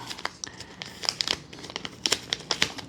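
Paper stickers from a DJI Osmo 360 camera box are handled up close, giving a run of crinkling and crisp rustling with sharp little snaps, loud and busy for a few seconds, with no talking.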